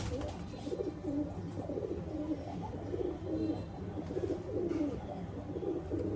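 Pakistani Teddy pigeons, a male pigeon and its mate, cooing in a steady series of low, rounded calls close by, with no talking over them.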